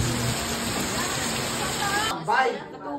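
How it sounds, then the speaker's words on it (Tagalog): Heavy rain pouring down as a dense, loud, steady wash of noise that cuts off abruptly near the end, with voices talking briefly afterward. "Kagrabe pa gid ang binunok sang ulan."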